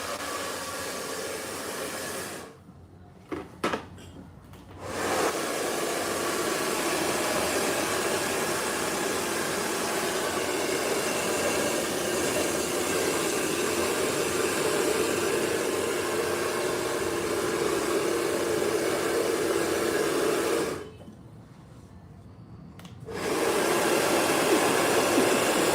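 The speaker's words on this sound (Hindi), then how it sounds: "सबसे पहले हमने यहाँ पर किया है स्ट्रेट ड्रायर" A hair dryer blow-drying hair straight during a layered haircut runs as a steady, close whooshing roar, cut off briefly twice with short pauses and clicks before resuming.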